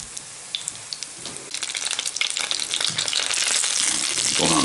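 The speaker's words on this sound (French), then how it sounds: "on va faire dorer le roulé dans l'huile sur toutes les faces." A cheese-filled roll of sandwich bread browns in oil in a pan, starting with scattered crackles that build into a dense, steady, close sizzle.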